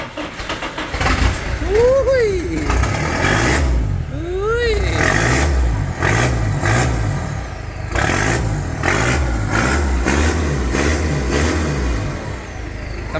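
A Honda XR250 motorcycle engine revs loudly and steadily up close at an off-road bike shop, with repeated throttle blips rising and falling throughout while someone talks over it.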